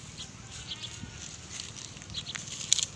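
Goats in a rural farmyard bleat a few times, faint and somewhat distant, over steady outdoor ambience, with one sharper call near the end.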